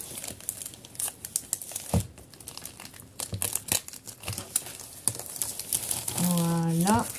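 A plastic pouch sealed with tape is unwrapped close up, giving a run of crisp crinkling and brief tearing rustles with small gaps, ending in a louder, sustained crackle.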